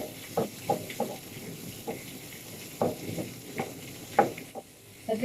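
Squid with ginger cooks in a pan, a steady soft sizzle broken by repeated scraping stirs at an uneven rhythm, close and fairly quiet.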